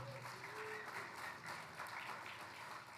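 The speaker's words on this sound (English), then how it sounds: "Let's give her another round of applause." An audience at a White House Tribal Nations Summit session applauds, a sustained dense clapping throughout with a brief voice heard faintly at the start.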